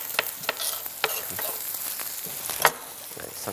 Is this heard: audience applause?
no